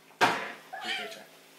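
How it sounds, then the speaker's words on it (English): A pet cat meows indoors, a short close call followed by a second softer meow, with a home setting and no clear speech over it. "Little kitty cat."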